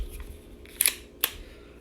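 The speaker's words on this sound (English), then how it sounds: "And we'll put an empty mag in." Empty magazine seated into a Kel-Tec P17 pistol: two sharp plastic-and-metal clicks, the first a quick double snap and the second a single click shortly after, close and clear against a quiet room.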